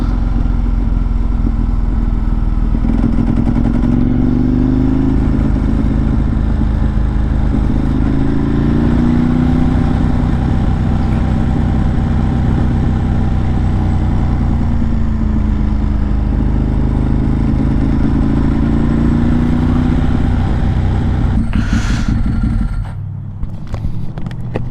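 A Ducati 1098 superbike engine drones loud and close while being ridden, a continuous deep roar that rises and falls through several gear changes before easing off near the end.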